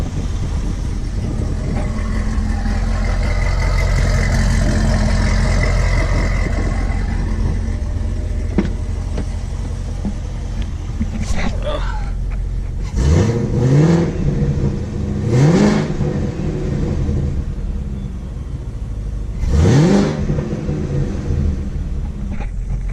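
A Chevrolet Camaro ZL1 with Kooks headers and factory mufflers and catback rumbles loudly at idle, then gives three sharp revs that rise and fall.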